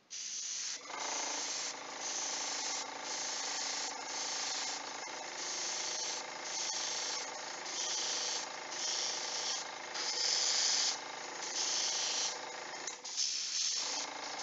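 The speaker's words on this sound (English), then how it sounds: "You can kind of hear the paint rasping a little to come out." Paint sprays from an airbrush in a steady, close hiss with slight rasping, pulsing in repeated bursts with brief gaps, alone and without voices.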